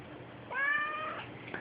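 A house cat gives a single clear, drawn-out meow close by, with no other voices around it.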